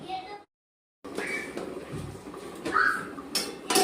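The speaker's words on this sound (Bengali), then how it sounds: "এবার আমি আবার একটু ঢাকা চাপা দিয়ে দিচ্ছি" A metal lid is set down on a cooking pot of egg curry. Brief clinks and a clatter of cookware follow a short silent gap, and soft kitchen clatter continues afterward.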